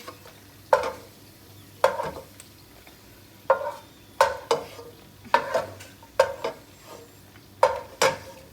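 Raisins frying in coconut oil in a pot for biryani, with bursts of stirring and scraping from a spoon at irregular intervals over a soft background sizzle.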